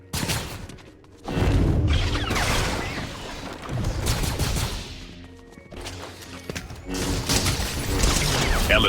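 Gunfire and heavy impacts in the video game Fortnite, loud sustained bursts of shots and thuds rolling on for several seconds, broken by brief lulls.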